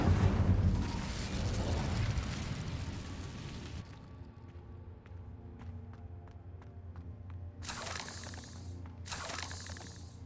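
A fiery Incendio spell bursts loudly in Hogwarts Legacy, a broad roaring blast that fades into a low rumble with scattered crackles, followed by two shorter whooshing bursts near the end.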